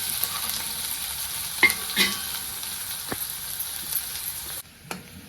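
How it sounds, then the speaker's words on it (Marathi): Finely chopped onion sizzling in hot oil with mustard seeds, garlic and curry leaves, a close steady frying hiss with a few spoon scrapes against the pan before the sizzle drops quieter near the end. "ही बारीक चिरलेला कांदा मी तेलामध्ये टाकून घेते"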